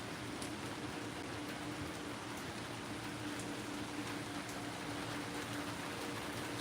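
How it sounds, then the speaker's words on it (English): Rain falls steadily during a nighttime thunderstorm, a dense even hiss of drops on surfaces that stays constant and moderately quiet throughout, with no voices. "Rain's starting to come down a little harder."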